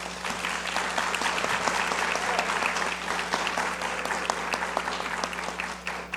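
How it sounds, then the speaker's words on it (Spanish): An audience at a judicial panel discussion applauds, dense steady clapping from many hands that holds throughout, fairly loud and close. "aplauso."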